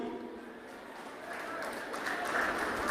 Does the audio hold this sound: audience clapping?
yes